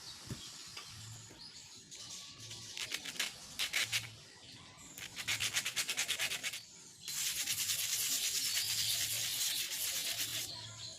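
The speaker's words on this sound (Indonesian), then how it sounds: "Maka saya harus amplas dulu." Sandpaper rasps against a rusty air rifle in rhythmic back-and-forth strokes, then settles into a longer continuous scrubbing, with faint bird chirps in the background.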